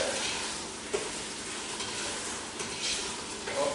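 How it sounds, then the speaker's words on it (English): Stuffed pepper filling sizzles and fries in a pan while it is stirred, a dense, continuous crackle with a few soft scraping knocks, close and fairly quiet. "Stir it up really good."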